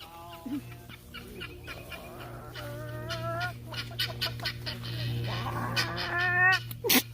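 Farm fowl, likely chickens, give a series of harmonic clucking and honking calls on a farm with a pomegranate orchard, fairly close and rising in intensity toward the end over a steady low hum, with no talk.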